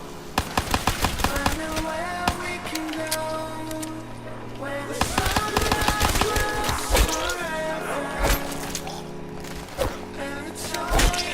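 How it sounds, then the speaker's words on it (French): Rapid gunfire crackles through a Call of Duty Kino der Toten zombies round, with bursts of automatic shots and single rounds over game music and effects, while a voice talks over the action. "Donc, j'attends les zombies, je leur tire dessus."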